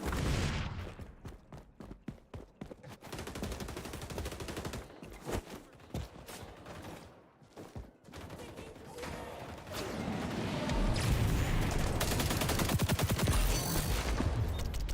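Rapid bursts of AK rifle fire in the XDefiant shooter, loud and close, with dense automatic volleys that break off briefly and then swell into a sustained, heavy barrage toward the end.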